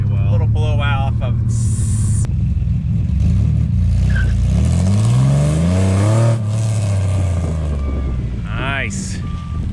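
A supercharged V6 Firebird accelerates hard, engine note climbing through the revs with a rising supercharger whine, heard loud from inside the car with people talking over it.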